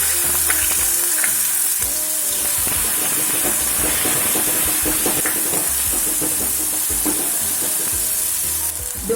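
Onions frying loudly in oil for Gujarati urad dal, a dense continuous sizzle and crackle with stirring clatter underneath, close and steady throughout.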